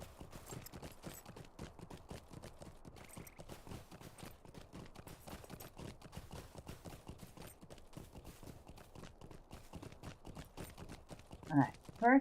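Horse hooves clip-clop in Lord of the Rings Online, a quick steady rhythm of soft thuds running throughout at moderate level, with a few brief louder game sounds near the end.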